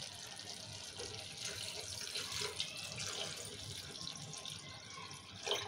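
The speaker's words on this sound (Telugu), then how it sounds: "మనం తగినన్ని వాటర్ పోసుకుందాము." Water pours steadily into a cooking pot for mutton paya curry, making a continuous close splashing rush that swells slightly near the end, with no talking.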